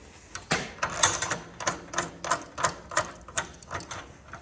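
A combination wrench tightens the chain nut on a LiftMaster garage door opener, making a series of quick, light ratcheting clicks and metallic taps in a steady rhythm, close and fairly quiet.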